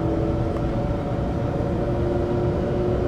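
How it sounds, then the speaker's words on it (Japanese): Inside a Taiwan High Speed Rail 700 series type train, traction motors accelerate with a steady whine under a continuous loud rumble of the moving car. "加速するときに下から響いてくるモーター音は700系にそっくりです。"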